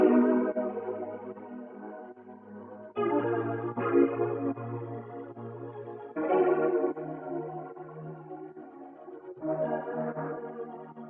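Soulful piano sample reworked into a vintage synth tone with flanger and LFO modulation, four sustained chord phrases changing every few seconds, wavering and textured, moderately loud with no voices.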